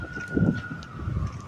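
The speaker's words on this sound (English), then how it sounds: "There's a lot of sirens going off around here." A faint siren tone holds steady through the clip, far off, over low rumbling background noise in Lancaster City, Pennsylvania.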